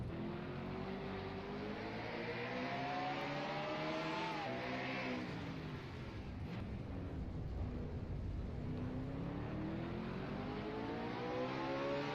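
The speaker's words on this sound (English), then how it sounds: "Let's go on board a lap with Tony Green in the 4 car" An on-board race car engine roars through a lap at the Surfers Paradise street circuit, a loud continuous note rising and falling through gear changes and throttle lifts, with no talk over it.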